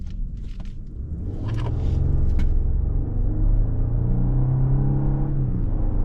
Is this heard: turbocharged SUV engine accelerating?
yes